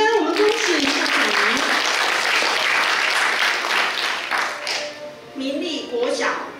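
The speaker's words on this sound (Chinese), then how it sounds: "好，请给予掌声，我们恭喜校长。" Dense, sustained applause rolls through a crowd at a school principals' handover ceremony in Changhua, with a voice talking over the start and again as the clapping thins toward the end.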